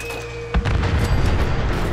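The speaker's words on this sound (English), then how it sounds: "a mini-nuke does not kill this thing with one shot" A Fat Man mini-nuke detonation in Fallout 4: a single deep boom hits about halfway through, after a quiet stretch of game ambience, then rolls on as a loud, heavy rumble to the end.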